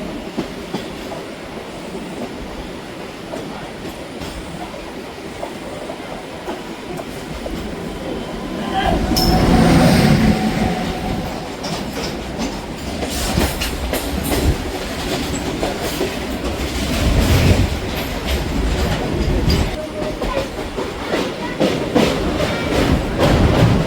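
A Kolkata local train rolls along toward Park Circus station, a loud continuous rumble of wheels and carriages that swells midway, with faint talk beneath the din.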